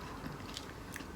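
Two quick, crisp crunches of someone biting into a brittle, sweet Japanese biscuit, close up, over a quiet background.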